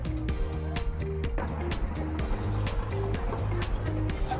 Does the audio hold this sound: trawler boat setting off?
yes